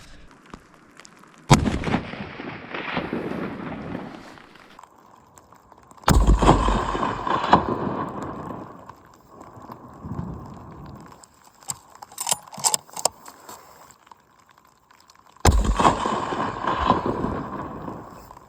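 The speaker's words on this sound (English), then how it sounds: "That's the second shot put into the edge of the cave at 440 metres." Rifle shots fired during a tahr hunt on a mountain, with rounds striking the edge of a cave 440 metres away: three sharp, loud cracks spaced several seconds apart, each followed by a long rumbling echo, with softer noise in between.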